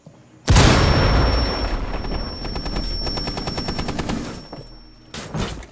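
Automatic gunfire in Rainbow Six Siege erupts suddenly and rattles in a rapid, sustained burst for several seconds, loud and close, then stops before a few more shots near the end.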